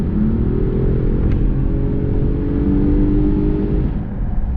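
A 2022 Toyota Avalon Touring's engine drones loudly and steadily from inside the cabin, its pitch rising slowly as it accelerates hard under heavy road noise.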